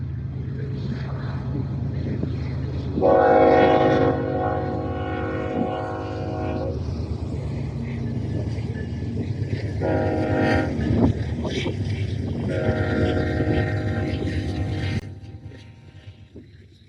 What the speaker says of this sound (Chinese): 这条铁轨，还真的有火车来了